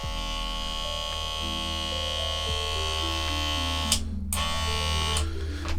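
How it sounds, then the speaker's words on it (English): An electric nail varnish shaker buzzes steadily with a loud, even motorized hum and vibration, joined by a few brief clicks and rattles near the end. "Okay, relatively loud."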